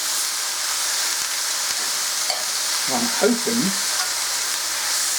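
Washed, still-wet beetroot leaves sizzle in a hot pan, a loud continuous frying hiss with crackle that runs throughout, while a voice briefly speaks over it partway through.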